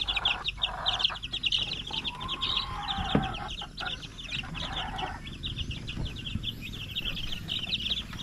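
Rhode Island chickens in a backyard cluck and chatter repeatedly at close to moderate distance, with occasional wing flaps and background noise.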